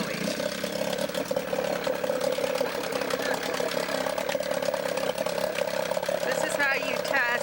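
A 1956 Penn Yan Swift boat engine runs on a test stand, a steady mid-pitched idle that holds loud and even throughout, with people talking over the running motor.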